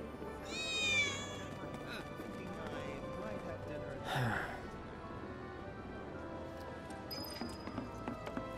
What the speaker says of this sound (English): Ah, that was definitely a cat.